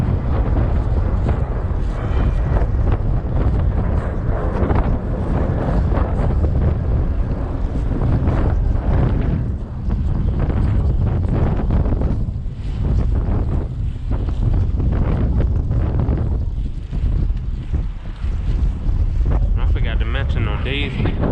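Strong wind roars and buffets steadily across the microphone while fishing outdoors, a constant heavy rumble that barely lets up.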